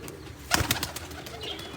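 A pigeon gives a brief, close coo that rises out of soft background noise, a single low throaty call lasting under a second.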